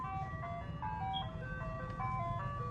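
Ice cream truck passing by at night, its tinkling chime melody playing faintly at a distance over a low engine rumble, with no talk.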